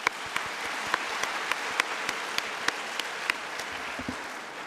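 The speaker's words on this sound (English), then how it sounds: "one round of applause again for Mr." Audience applause at a university engineering freshmen orientation ceremony: steady, even clapping from a large hall crowd, sustained at moderate level for several seconds with a few sharper individual claps standing out.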